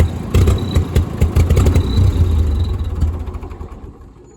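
An old Ford 2N tractor engine chugs in an uneven, lumpy rhythm close by, then falters and fades away as it dies, leaving near quiet at the end.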